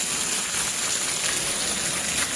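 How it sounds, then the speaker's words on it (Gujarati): Heavy monsoon rain pouring down at a home in Gujarat, a dense, even hiss of downpour close by with no talking. "ફૂલ વરસાદ છે જો."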